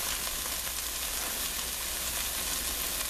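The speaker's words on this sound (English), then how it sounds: "we're going to put the vegetables in here. Sweat them up a little bit" Vegetables sweating in a hot pan for braised flat iron steak, a steady loud sizzle and fry that holds evenly without break, close up and alone.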